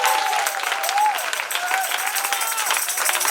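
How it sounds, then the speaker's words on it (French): Church congregation applauding at a revival service in Dabou, a dense steady wash of clapping and crowd noise lasting throughout, with a voice faintly mixed in. "Est-ce que vous pouvez donner une main d'acclamation au Seigneur Jésus-Christ ce matin?"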